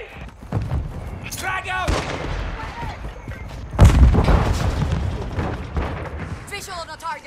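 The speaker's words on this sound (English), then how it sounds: "Requesting fire mission! Target marked! Solid copy. Mortar strike on the way." Mortar strike explosions in the video game Call of Duty: Modern Warfare II during a team deathmatch, several heavy booms and gunfire bursts under shouted in-game voice callouts, one loud blast landing mid-clip.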